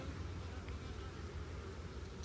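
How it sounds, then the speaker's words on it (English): Bees hum around a beekeeper's mini mating nucs outdoors, a faint, continuous low buzz with no break. "I'm kind of scared of bees anyway."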